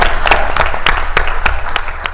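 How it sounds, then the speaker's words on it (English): An audience at a school district board of education meeting gives a round of applause. It comes through as a short run of distinct claps with a quieter crowd wash behind them, heard from a moderate distance. "let's give them a round of applause"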